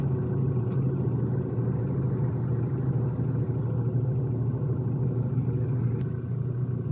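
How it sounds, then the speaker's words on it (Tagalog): Steady low engine rumble of cars idling and creeping in heavy city traffic at a stoplight in Makati City, continuous and fairly loud with no talking. "Traffic, stoplight na naman."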